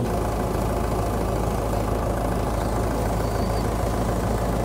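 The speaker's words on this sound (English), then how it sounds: "So the threshing machine is powered by that tractor there" A vintage tractor drives a threshing machine at a ploughing match, its engine chugging steadily and loudly up close in a continuous low rumble with mechanical clatter, and no voices.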